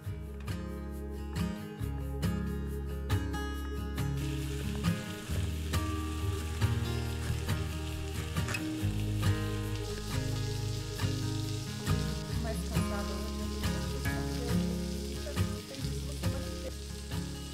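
Flour-coated chicken searing in a pan, a loud steady sizzle and crackle of frying that runs continuously with occasional stirring clatter.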